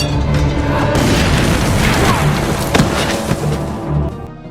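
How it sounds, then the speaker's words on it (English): A film explosion booms loud and broad, holding as a sustained roar with a few sharper cracks and debris bursts before slowly easing off. "The sound of the explosion was heard by Elsa"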